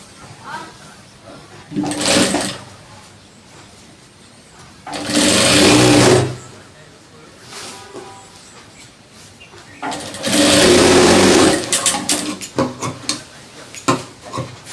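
A sewing machine stitches men's trousers in three loud, close bursts of rapid whirring lasting one to two seconds, separated by quieter pauses with handling noise.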